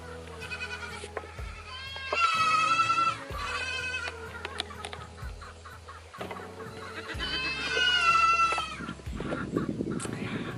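Nigerian dwarf goats bleat loudly in two long wavering bursts, with clucking chickens and other farmyard calls around them, close to the recorder.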